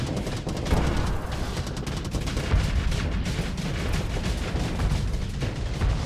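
An experimental missile launched in the space game Starsector with the Nexerelin mod, heard as a dense, continuous roar of firing and rumbling blasts, loud and sustained throughout.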